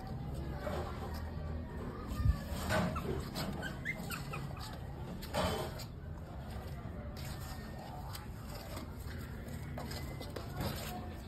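Puppies whimper and yip softly in short, thin cries close by, scattered over a low steady background with a faint hum.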